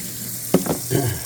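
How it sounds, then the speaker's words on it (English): Cold tap water splashes over freshly drained noodles for a beef pad Thai stir-fry, a brief close rush of hissing water in two bursts with no talking. "I'm gonna douse them cold water, get them to stop cooking"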